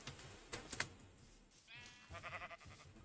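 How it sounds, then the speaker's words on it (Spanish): A black sheep in Minecraft bleats, a wavering, nasal call near the end that follows a few soft clicks and taps, all quiet with no talking. "¡Una oveja negra!"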